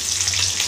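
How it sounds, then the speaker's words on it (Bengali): Garlic paste fries in a pan that also holds partly fried potatoes, giving a steady, close, fairly loud hiss with no speech over it. "রসুনটাকে আগে ভেজে নেবো,"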